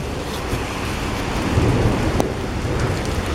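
A severe thunderstorm pours heavy rain mixed with hail, a dense steady roar of drops with a low rumble of thunder, loud and close, no voices.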